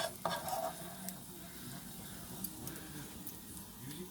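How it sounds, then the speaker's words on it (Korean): A spoon scrapes at egg stuck in a frying pan, with a faint sizzle; short, close scraping strokes and clinks come through at low level, steadiest early on, with no talk over them. "숟가락으로 벅벅 긁어대니까는 프라이팬 다 맹해지지."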